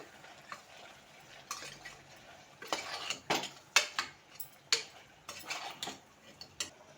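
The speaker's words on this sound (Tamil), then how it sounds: "இப்போது இது நல்லா வதக்கிக்கலாம் கொஞ்சம் நேரத்துக்கு." Spices sautéing with turmeric powder in a pan for mutton varuval, heard as irregular dry scraping and clicking spatula strokes against the pan over a faint, quiet sizzle, with no talk.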